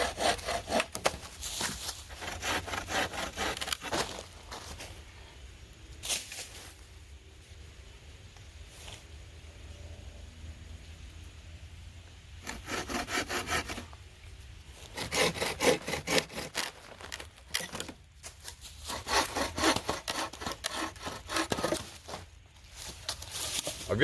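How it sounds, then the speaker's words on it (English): Poles being cut to length with a hand saw: bursts of rhythmic back-and-forth rasping strokes, close and fairly loud, separated by quieter pauses with faint handling noise. "Let's get these poles cut."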